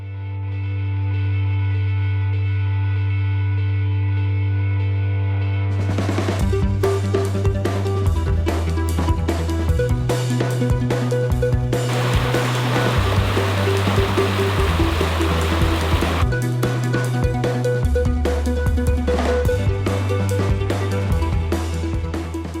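Steady rushing and splashing of water spilling over a small front-yard pond waterfall, loud and close, continuous throughout with some shifting turbulence and no voices.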